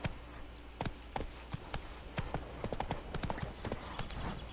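Horse hooves clip-clopping at a gallop in The Witcher 3 video game, a fast run of sharp close hoofbeats continuing throughout over a steady ambient bed.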